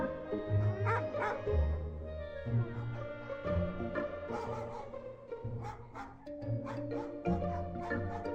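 Cartoonish dogs bark and yip repeatedly in the dog sanctuary area of the shelter in the video game Scott Whiskers in: the Search for Mr. Fumbleclaw, steady and close over a tonal game music bed, with occasional whimpers between the bow-wows.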